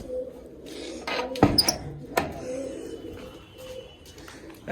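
Pigeons coo softly amid a few sharp clatters and rustles nearby, with quiet background noise between.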